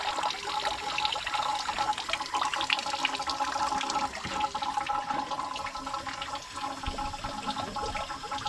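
Water gushes and churns steadily through a Yamaha F200 outboard engine being flushed, a rushing, flushing sound with gurgling trickles continuing throughout.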